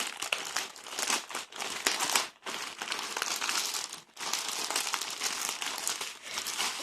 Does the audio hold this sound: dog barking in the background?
no